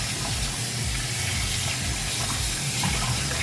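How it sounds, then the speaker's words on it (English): Raw pork shoulder is rinsed under a running tap, giving a steady, close hiss of water splashing without pauses or talk. "And now we're just rinsing it off now."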